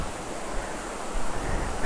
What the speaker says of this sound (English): I saw these small waterfalls and the sound of flowing water.